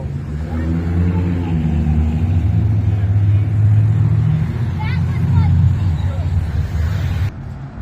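Cars idle and rumble close by at a rolling car cruise in Flint, Michigan, a steady low engine drone with a brief rev, while people chat nearby.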